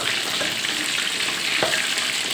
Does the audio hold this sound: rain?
no